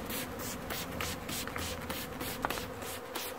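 A beekeeper sprays water from a spray bottle onto bees in a single beehive in Newfoundland in September, with several short hissing bursts over a steady buzzing of bees.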